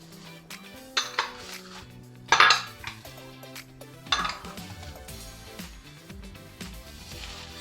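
Beef for Korean bulgogi is mixed with soy sauce and sesame oil in a bowl, producing irregular close clinks and scrapes of a utensil against the dish, with a few sharper knocks and no speech.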